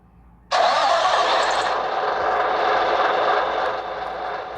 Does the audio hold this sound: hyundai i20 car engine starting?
yes